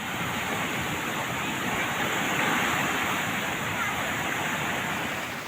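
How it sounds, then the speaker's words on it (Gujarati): Floodwater from heavy rain surges through an overflowing creek beside the road from Ghanavad to Limarvan, Narmada, a dense, steady roar of rushing water that stays loud and close throughout with no pause. "ઘાણાવડથી લીમરવાણ રસ્તા પર આવતી ખાડી 2 કાંઠે વહેતી થઈ"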